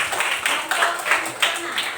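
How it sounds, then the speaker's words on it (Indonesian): A primary school class claps for a classmate named Christopher, a steady run of light, fairly quick hand claps at moderate volume. "tepuk tangan untuk Christopher"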